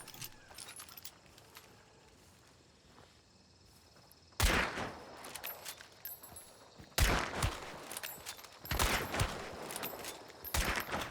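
Bursts of rapid gunfire from a gun in an online shooter game, sharp loud volleys starting abruptly after a quiet stretch, then repeating in clustered rattling bursts.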